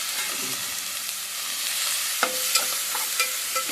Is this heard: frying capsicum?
yes